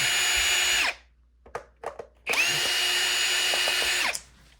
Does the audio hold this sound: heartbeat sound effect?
no